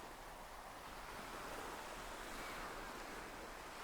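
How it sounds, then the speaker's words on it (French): Ocean waves break on the shore in a broad continuous wash of surf, soft and steady with a gentle swell midway, fairly faint and with no voices. "Le bruit des vagues"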